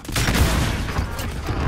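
A loud volley of gunfire and blasts in the Call of Duty Modern Warfare battle royale mode, several heavy overlapping shots in quick succession at close range.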